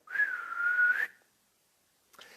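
A single loud whistle, imitating the whistle of the witch Baba Yaga, holds a steady high pitch for about a second before breaking off, followed after a pause by a brief faint noise.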